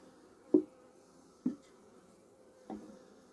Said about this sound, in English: Feels so weird having a buzzy bee on you.